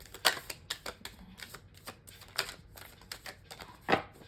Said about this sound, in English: I am shuffling so much.